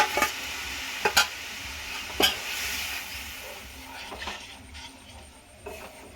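Pre-boiled masoor dal goes into a hot pan for a sour raw-mango dal, with a few sharp clatters of spoon and pan and then a soft sizzle that fades and settles.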